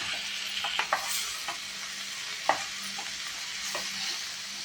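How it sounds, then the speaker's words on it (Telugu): Cauliflower pieces are stirred into softened tomatoes in a pan. A few sharp spoon scrapes and clicks sound close over a constant gentle sizzle, with no talking. "ముందుగా కట్ చేసి పెట్టుకున్నటువంటి క్యాలీఫ్లవర్ ముక్కలను వేయాలి. దీన్ని కలపాలి."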